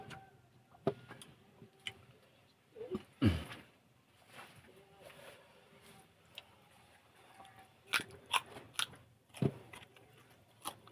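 Close, crisp crunching bites of stir-fried papaya stem, a few sharp crackly bursts spaced irregularly between quieter moments, with soft murmurs of enjoyment.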